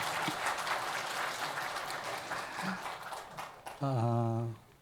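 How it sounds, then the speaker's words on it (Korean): Congregation applause at a New Year's Eve church service, a broad steady wash of clapping that fades before a loud tonal burst near the end. "여러분, 이게 다 들어가면 박수를 쳐야 됩니다."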